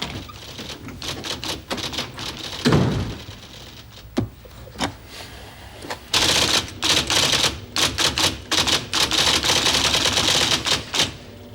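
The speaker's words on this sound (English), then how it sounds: "Oh, you're typing, I mean." Rapid typewriter keystrokes clatter in a 1980s TV drama office scene, sharp irregular clicks in quick bursts with brief pauses and a heavier thunk partway, close and clear with no talk over them.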